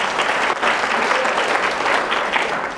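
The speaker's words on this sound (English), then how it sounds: "you can cheer for Lord Sumption. He deserves it." An audience at a public talk breaks into sustained applause and cheering, a dense, loud wash of clapping and crowd noise that continues evenly throughout.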